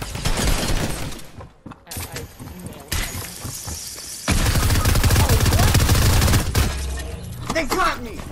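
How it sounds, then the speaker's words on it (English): Rapid-fire legendary SMG in the battle royale game Fortnite, firing in fast, dense bursts, with one long sustained stream in the middle, among other gunfire and game sounds, with voices talking over it. "Rapid fire legendary SMG?"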